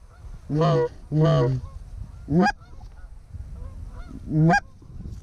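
Geese honk loudly in a few separate bursts during a goose hunt in Iowa, two long calls close together and then two shorter ones, with quiet outdoor noise in between.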